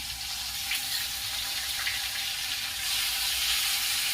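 Ginger paste and crushed garlic fry in a pan over a low flame, giving a steady, close hiss of sizzling that swells slightly toward the end.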